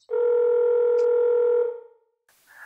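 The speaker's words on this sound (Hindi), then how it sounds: "अपना एक दोस्त को फोन लगाया।" A telephone dial tone sounds while a call is placed to a friend in Kolkata: a steady, clear electronic hum that holds for about a second and a half, then cuts off, followed by a brief faint rustle.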